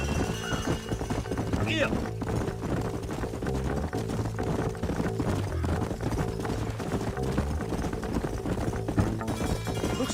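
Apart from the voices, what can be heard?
horses' hooves clip-clopping, video game Red Dead Redemption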